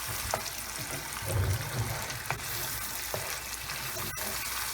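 Prawns dropped into curry masala in a pan, a low, moderate sizzle with a few stirring knocks and a brief bubbling swell, fairly quiet and close.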